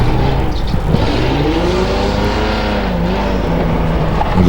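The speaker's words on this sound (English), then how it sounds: "We've got Josh Munn now on screen in the 180B Triple S Datsun" A Datsun 180B SSS hillclimb race car at the Legend of the Lakes hillclimb revs hard and loud, its engine pitch sweeping up and down through the gears in one continuous close roar.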